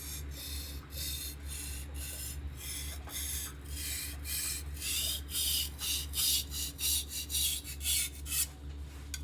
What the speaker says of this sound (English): And then as you're going in, cutting into the stone, you relieve the pressure.